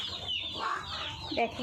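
Hens on a poultry farm cluck near and clear in a short burst of overlapping calls, with a voice speaking briefly among them.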